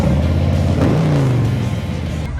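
A 2018 Harley-Davidson Low Rider Softail, 114 engine staged up with Reinhardt pipes, revs loudly and pulls away, its pitch rising and sweeping as it accelerates off close by.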